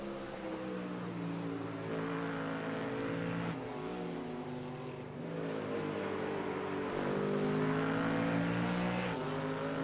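GT3 race cars lapping the Nürburgring during the final lap of a race: a continuous, fairly distant engine drone with shifting pitch as cars accelerate and pass, steady and unbroken without speech.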